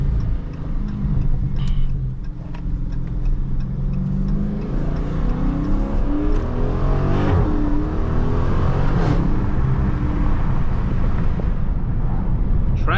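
A widebody Dodge Charger Scat Pack accelerates hard with traction control off, its engine a loud, continuous roar heard from inside the car as the revs rise and fall through gear changes.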